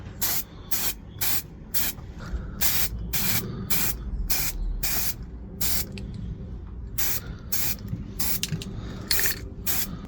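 Aerosol primer hisses from a spray can in a string of short, evenly spaced bursts onto small 3D-printed metal-look Beyblade spinning-top parts, close and loud, with brief quiet gaps between each spray.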